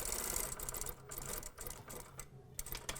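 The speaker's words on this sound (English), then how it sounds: "Now I'm stitching this on." Sewing machine stitching an elastic hem on a vest, a steady close whirring run of rapid stitches broken by a few brief pauses, with no voices.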